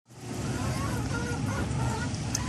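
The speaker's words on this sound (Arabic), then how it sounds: "انا مربيه بط بلدي او بط مسكوفي" A flock of domestic and Muscovy ducks kept at a home calls steadily, with dense, overlapping honking quacks close by that run on without pause.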